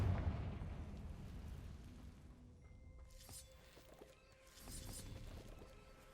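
Blasting spell explosions in Hogwarts Legacy: a heavy low boom fades into rumbling debris, followed by crackling magical bursts and a second burst of sparkling impact noise, fairly quiet overall.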